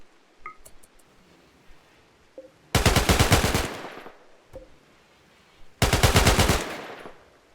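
Two bursts of rapid automatic gunfire from colonists in the video game Rimworld, each about a second long and separated by a pause, loud and close, with small faint clicks and pops between them and no talking.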